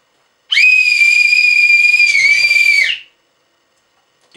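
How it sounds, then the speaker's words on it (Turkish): After a short silence, one sustained piercing whistle for parakeet recall training blows close by for about two and a half seconds before stopping abruptly. "Düdüğü çalıyorsunuz."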